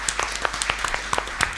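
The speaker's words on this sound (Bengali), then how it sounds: "জোরে একটা করতালি।" An audience at a televised children's general-knowledge quiz competition clapping loudly, a dense burst of many hands applauding together, close and continuous for a brief moment.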